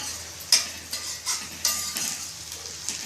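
Bitter gourd curry ingredients sautéing in a pan, a steady soft sizzle broken by a few scraping stirs and light clinks of the spoon against metal, with no talking.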